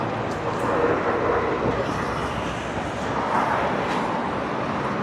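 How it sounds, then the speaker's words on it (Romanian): A tram passes along a Bucharest street, a steady broadband rumble of wheels and traffic noise that swells and fades slightly over a few seconds, with no talk. "Cel mai drăguț tramvai din București tocmai a trecut."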